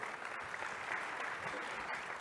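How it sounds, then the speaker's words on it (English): Audience applauding the session organisers at a UNESCO NGO forum, steady dense clapping from a crowd throughout, fairly faint and distant-sounding. "let's give them a round of applause"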